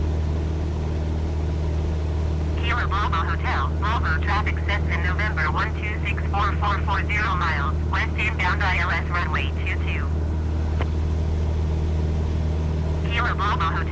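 Steady drone of a Cessna's engine in flight within Microsoft Flight Simulator 2020, a constant low hum running throughout while a voice makes radio calls over it.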